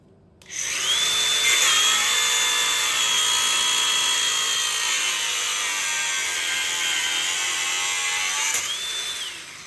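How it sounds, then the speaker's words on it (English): An angle grinder cuts through an ordinary steel bolt on a waterlogged pole transformer, a loud, close, continuous high whine that spins up sharply and holds steady for about eight seconds before easing off, with no talking. "I'm tempted to get the grinder out."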